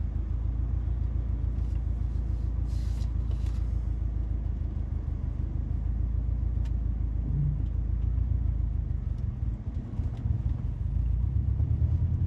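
A Subaru STI takes off and accelerates, its engine a loud, steady low rumble that fills the whole stretch without a break.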